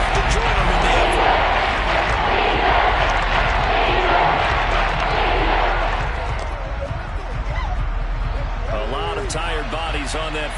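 Stadium crowd roaring loudly and steadily at an NFL football game, Cardinals at Seahawks, a dense continuous wall of cheering that swells early, eases slightly, then rises again with whoops and shouts near the end.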